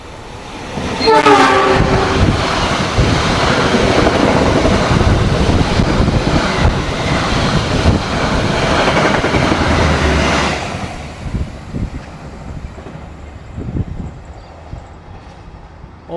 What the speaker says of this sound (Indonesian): itu dia kereta api Ranggajati telah melintas stasiun Rejoso